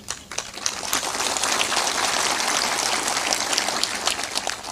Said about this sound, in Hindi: ताली भी जोर बजाया करो।